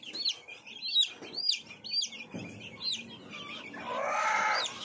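Month-old desi chicks cheep in quick repeated high chirps close by, a series of sharp peeps spaced across several seconds, followed by a brief broader squawk or flutter near the end.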